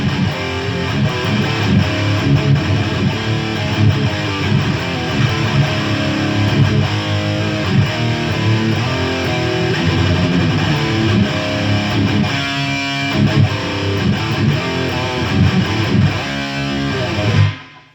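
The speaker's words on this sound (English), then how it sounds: "what you just heard was the sustainer with the compressor sustainer with the SD1" Ibanez RG100ES electric guitar with EMG pickups on a 24-volt mod, played through a sustainer, compressor and SD1 overdrive: a loud, dense, distorted riff that holds steady throughout and cuts off abruptly at the end, with no voices.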